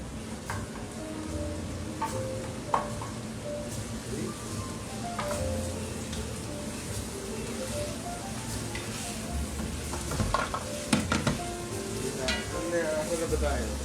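Chicken browning in a pan for arroz valenciana, with a steady close sizzle broken by stirring clinks and scraping, while people talk over it.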